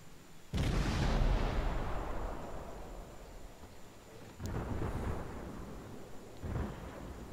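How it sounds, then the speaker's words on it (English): A torpedo striking a warship in World of Warships, a heavy booming blast that rolls and decays for several seconds, followed by two further deep rumbling impacts, with no talk. "Ate a torpedo."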